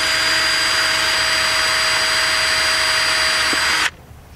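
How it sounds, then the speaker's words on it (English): Electric drill boring into the housing of an Estate Swing ES 1000 driveway gate operator, a loud steady whine held under light pressure for nearly four seconds, then cutting off abruptly. "Let the drill do the work."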